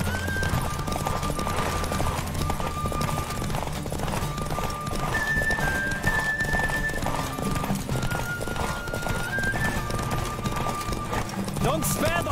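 A horse gallops in a race in The Witcher 3: Wild Hunt, with steady, close hoofbeats that run throughout alongside occasional whinnies, sustained tones and voices.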